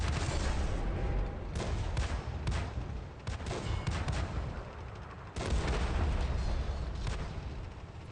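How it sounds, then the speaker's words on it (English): Artillery shells go off repeatedly in a tank battle game, with sharp blasts landing every second or so and a heavier one near the middle, all over a constant rumble of combat noise. "Hey, artillery."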